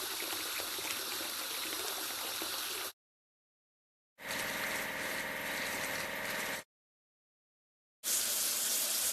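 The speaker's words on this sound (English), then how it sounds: "Now we need to wash it clean." In a kids' car wash video game, water sprays to wash a tractor in steady hissing bursts, each cut off sharply with silent gaps between them.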